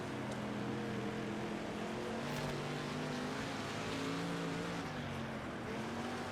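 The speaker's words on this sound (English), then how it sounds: "As we navigate through the back of the field, the 25th place car of Young and Jackson." Sprint car engines in the World of Outlaws 24 racing game drone in a dense, sustained chorus, pitches wavering slightly as the cars run through the back of the field.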